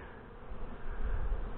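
Honey bees buzz around an open hive nucleus box during beekeeping, a steady low droning hum from many insects, close by and without talk.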